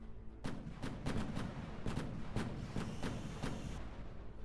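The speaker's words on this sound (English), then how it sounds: "The AFU opens fire with a machine gun." Ukrainian forces fire a machine gun at a Russian position, a string of about eight heavy, muffled reports in a fairly regular rhythm, distant and low in level over a constant rumbling background.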